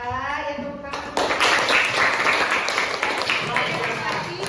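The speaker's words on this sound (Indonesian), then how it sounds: "Ya tepuk tangan." A classroom of students bursts into applause at the end of a lesson, steady, dense clapping that begins after a brief moment of talk and continues loudly to the end.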